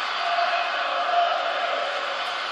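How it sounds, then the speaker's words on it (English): A wrestling crowd at an FWF tournament match cheers for Robin, a steady distant roar of many voices washing continuously without clear breaks. "They're cheering for Robin."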